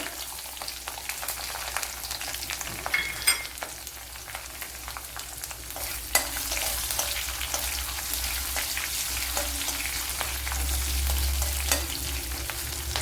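Dried red chillies, garlic, ginger and green chillies fry in hot oil for a spinach dish, a steady close sizzle and crackle that grows slightly louder midway, with no talking.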